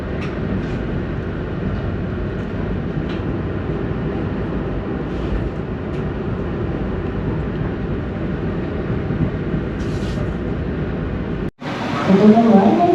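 Steady interior rumble of the Kaligung economy train running between Cirebon and Semarang, a continuous low rolling drone throughout with a brief sharp break near the end, and faint talk underneath.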